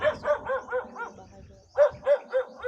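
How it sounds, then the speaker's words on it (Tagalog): A dog barking in a rhythmic series of close, loud barks, about eight in two quick runs separated by a brief pause, heard outdoors near a house. "May aso dito sa baba tol."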